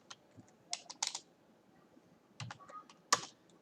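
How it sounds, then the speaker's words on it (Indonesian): Typing on a computer keyboard during a server login produces two short clusters of crisp, close keystroke clicks with quiet gaps between them. "kita login dengan user root seperti biasa, ketikkan root."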